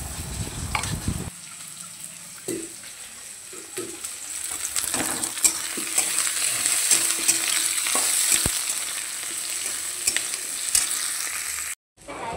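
Pointed gourd and chunky onion pieces fry in mustard oil tempered with dried red chilli, giving a steady close sizzle with a few stirring clinks and scrapes, cutting off briefly near the end.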